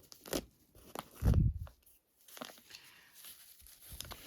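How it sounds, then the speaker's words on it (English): Paper tearing by hand off a quilt piece in a few short ripping bursts, close and fairly loud, with quiet gaps between. "you can just grab it and tear it off with your hands."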